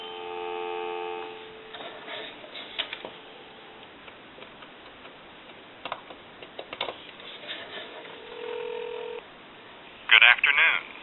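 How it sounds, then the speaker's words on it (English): Through a wood wall telephone converted for a modern line, a steady dial tone hums, broken by clicks and short tones, before a burst of touch-tone dialing near the end, with someone talking in between. "We'll give you some dial tone."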